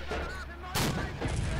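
Gunfire and artillery blasts in the tank video game Steel Fury: two sharp, loud booming shots about half a second apart, with rumbling echo tails over low background noise.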